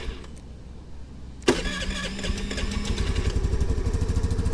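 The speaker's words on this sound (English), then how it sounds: "It doesn't like to start up cold without choke." A cold 2022 Honda NAVI scooter engine cranks briefly and then fires, settling into a loud, steady putter close by, with no talk over it.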